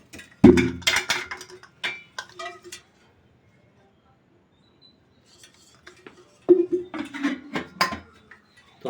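A kadhai wok goes onto the stove with two short bursts of metallic clanks and scrapes, separated by a few seconds of near silence, with faint speech in the background.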